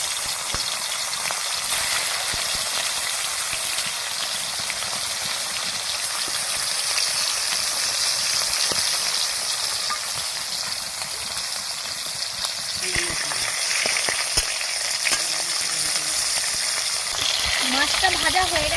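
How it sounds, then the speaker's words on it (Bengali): A hilsa fish head fries in hot oil, giving a loud, continuous sizzle that holds steady for a long stretch and grows slightly brighter and more spattery toward the end. "মাছটা ভাজা হয়ে গেছে"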